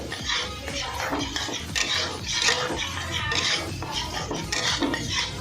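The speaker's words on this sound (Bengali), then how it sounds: "এবার আমি ভালো করে নাড়াচাড়া করে নেব" A spoon scrapes and clatters against a pan while a Bengali vegetarian cauliflower and potato curry with tomato and spices is stirred, an irregular, close sequence of metallic scrapes and knocks.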